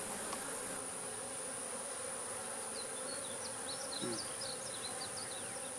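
Honey bees at an open hive during a beekeeping inspection hum in a dense, steady drone, close and continuous, with a few sharper buzzes and faint chirps crossing over it.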